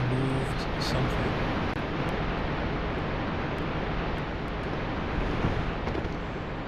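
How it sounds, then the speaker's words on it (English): Loud waterfall in Dark Souls: a steady, dense rush of roaring water that fills the whole clip without letting up, with a voice speaking faintly at the start. "The waterfall is so loud."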